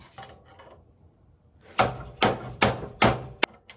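Hammer blows on a metal truck part in a shop working on a large Chevy independent front suspension build, four or five loud, sharp ringing strikes at an uneven pace after a quiet stretch.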